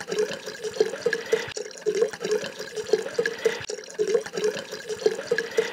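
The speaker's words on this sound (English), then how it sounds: "Five minutes later, I'm still pouring." Wine pours steadily into a glass, a continuous close gurgling trickle with a rhythmic glugging pulse and no voices.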